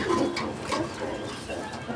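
Fancy pigeons at a wholesale market coo steadily through the whole stretch, several birds overlapping in low, throaty rolls against a busy, noisy background.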